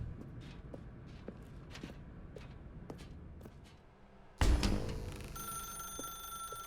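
A telephone rings in The Stanley Parable video game, starting abruptly after a run of soft footsteps and sounding a bright, sustained bell tone near the end.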